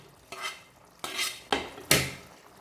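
Four scraping, clattering strokes of a spoon stirring tinda vegetable curry with chopped onion in a pan, spaced about half a second apart, close and alone.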